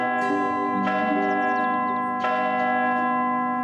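Church bells ringing in a steady, resonant peal with overlapping tones that sustain throughout, struck again at regular intervals, clear and fairly close with no talk.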